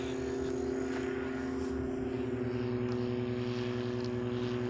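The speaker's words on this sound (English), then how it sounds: "But it's some weird little prop plane." A small, odd-looking propeller plane passes overhead far out in the wilderness, giving a steady, continuous droning hum with a faint rise and fall. No voices are heard.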